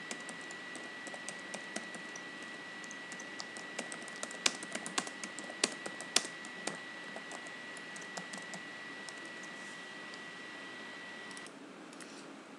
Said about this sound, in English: Here you can start typing the program.